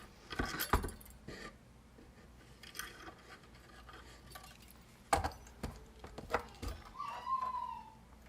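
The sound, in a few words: metal file scraping a metal design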